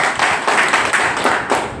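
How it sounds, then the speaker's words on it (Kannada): Loud, dense applause from an audience at a Karnataka farmers' association gathering, with many hands clapping together in a continuous, evenly sustained roar. "ಜೋರದ ಚಪ್ಪಾಳೆ"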